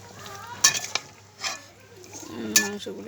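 Chunks of chicken cut into fairly large pieces being dropped into a pan and stirred, with sharp clanks of utensil on metal, a soft sizzle and a few scraping stirs, close and fairly quiet.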